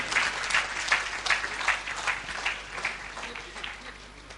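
An audience at an amateur Hindi stage play in Ajmer applauds the actors, a sustained wash of clapping with a few sharp, distinct claps rising out of it and fading slightly toward the end.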